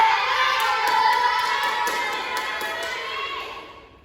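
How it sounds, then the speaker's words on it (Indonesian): An elementary school class of fourth graders claps hands together in a steady, rhythmic pattern of sharp, evenly spaced beats in the classroom, with voices talking over it before the sound fades out. "tepuk tangan berdua"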